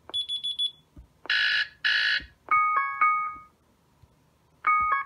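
Alarm ringtones from an Evatronic ET-IH007 11-inch digital picture frame: a series of short electronic beeps, chimes and buzzing tones play one after another in brief bursts, clear and close with pauses between.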